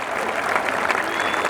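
Audience applause fills a Hindi comedy poetry gathering (hasya kavi sammelan) in Rajnandgaon, a dense, steady burst of clapping from a large crowd that holds at full strength throughout.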